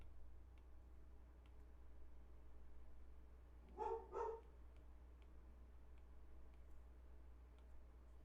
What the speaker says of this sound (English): Sounds like my dogs are having fun.